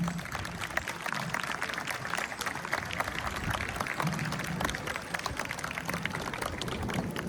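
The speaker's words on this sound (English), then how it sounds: "Please give them a big round of applause" A crowd at a Vietnamese refugee commemoration event applauds standing volunteers, a continuous dense patter of clapping at moderate, somewhat distant level lasting several seconds.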